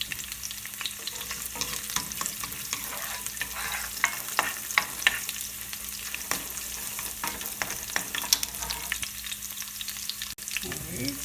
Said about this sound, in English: And then I'll be throwing in the cardamom and the cloves, along with my ginger.